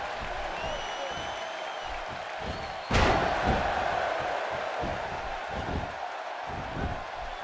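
Arena crowd in the WWE 2K16 wrestling video game, roaring throughout, with a sharp slam near the middle that lifts the cheering into a louder surge before it settles to a steady crowd roar.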